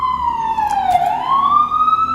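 A wailing siren, loud and close, sweeps down and then back up in pitch once over a couple of seconds.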